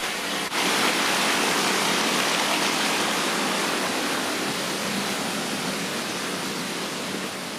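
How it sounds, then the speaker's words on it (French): Hot spring water pours into a river at an abandoned thermal spa, a steady rushing and splashing, a broad dense roar like a small waterfall, close and unbroken throughout. "Ça tombe dans la rivière avec cette eau chaude."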